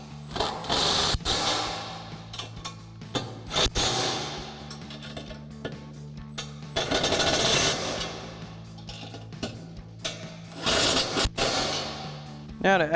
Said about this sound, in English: We'll go ahead and tighten these down using our 13 millimeter socket on our impact and our 13 millimeter wrench.